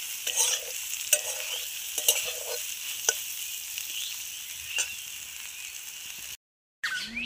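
Soybean chunks seasoned with salt and turmeric sizzle in a pan, a soft steady fry punctuated by sharp spatula scrapes and clacks at irregular intervals, close up, then a brief cutout before the frying resumes.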